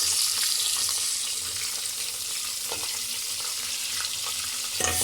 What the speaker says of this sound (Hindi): हमने उसी घी में प्याज़ों को डाला है